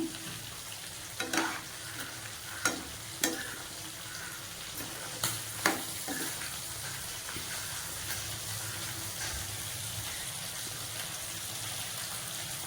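A pot of curry with coconut milk bubbles and sizzles gently in a steady low hiss, with a few sharp clinks of a utensil against the pan near the start.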